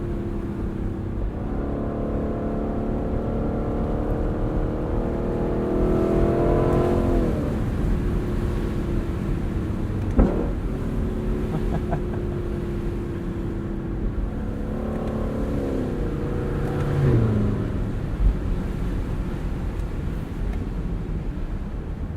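A 2022 Lexus LC sports car engine drones while driving, rising in pitch through several gear pulls with shifts between them, steady and close-miked from inside, with no talking.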